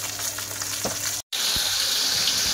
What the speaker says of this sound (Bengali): মাছগুলো কিন্তু একদম লাল লাল করে ভেজে নিচ্ছি।